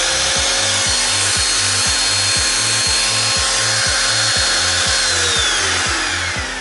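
A RoutER11 CNC router spindle running up toward 32,000 RPM gives a loud, steady high-pitched whine with a rising tone, over a regular low pulsing hum from its built-in cooling fan.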